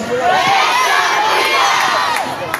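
A large crowd at an outdoor political rally in the Philippines shouts and cheers in unison, a loud sustained roar of many voices answering a call.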